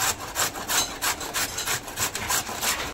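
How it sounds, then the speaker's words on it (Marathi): A carrot is grated on a hand grater up close, with quick rhythmic rasping strokes, roughly three per second, repeating evenly before stopping abruptly. "गाजर खिसून घेऊया।"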